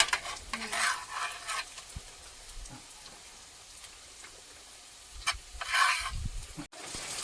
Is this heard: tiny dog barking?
no